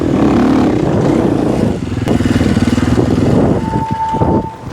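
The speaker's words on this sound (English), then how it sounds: "I'm gonna click it up to second right here." A 4-stroke enduro motorcycle runs in second gear at close range, its engine a steady loud thrum with a slight rise and dip in revs and no talking.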